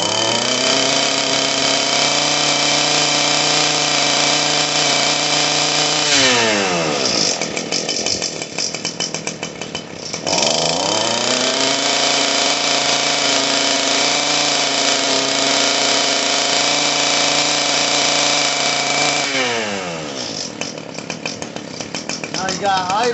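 An Echo SRM-230 string trimmer's small two-stroke engine runs loud and close, dropping to a lower idle twice before revving back up to a high sustained whine, with brief voice bits under the engine.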